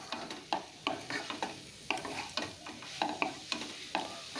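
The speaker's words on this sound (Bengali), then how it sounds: "আমি ভালো করে কষিয়ে নিচ্ছি সমস্ত উপকরণগুলোকে" Broccoli and spices are stirred and sautéed in a pan, with a quiet, close rhythmic series of spatula scrapes and taps about twice per second over a soft sizzle.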